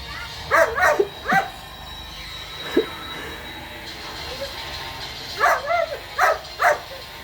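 A dog barks repeatedly at a rural home: a cluster of sharp barks, then a lone bark, a pause, and another quick run of barks, fairly close over quiet background noise.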